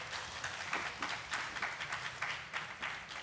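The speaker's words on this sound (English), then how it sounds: "Give that a round of applause." An audience gives a round of applause during a drag-for-beginners show, a lively patter of many hands with distinct sharp claps pulsing through it, moderately loud and continuous, with no talking.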